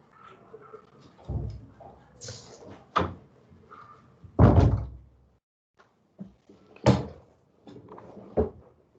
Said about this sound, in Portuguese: eu vou só fechar uma porta aqui que está vindo um som